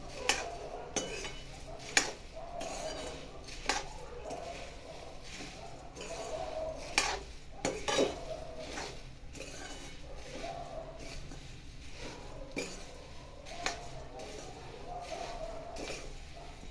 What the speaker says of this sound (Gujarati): હવે તેમાં મમરા એડ કરવાના. ધીમે ધીમે હલાવતા હોઈએ.